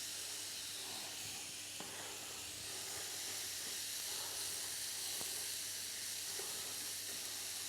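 Seasoned meat with pepper, paprika and chili searing in a hot pan gives a steady, quiet hiss and sizzle that continues evenly throughout, with a few faint clicks and no talking.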